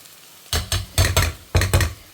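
Vegetables sautéed in a pan with freshly ground spice powder produce several short, loud bursts of scraping and sizzling at close range, with quiet gaps between strokes and no talking.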